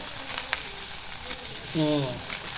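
Poppy seeds fry in a hot pan for prawn curry, giving a steady, even sizzle with a few soft stirring clicks. A brief voice cuts in near the end.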